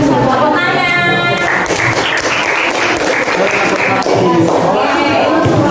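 Classroom audience at a lesson on reproductive health applauding, a dense, steady burst of clapping that fills the whole stretch while voices chatter underneath.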